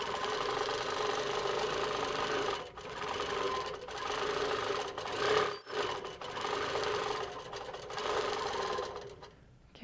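A Moxie XL longarm quilting machine stitches a circle, running continuously with a loud, steady mechanical whir and rapid needle chatter that fills the whole stretch, with brief dips as the motion slows.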